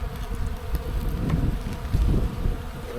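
Honey bees buzzing steadily at an opened hive during a spring inspection, a dense, continuous hum close to the microphone with light wind noise.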